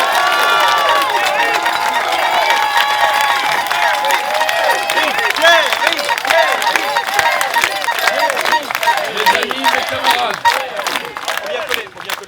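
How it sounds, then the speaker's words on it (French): Rally crowd at an anti-lockdown demonstration cheering and applauding loudly and continuously, with shouts and whistles rising over a dense wall of clapping that carries on without a break. "Je vous prie d'applaudir"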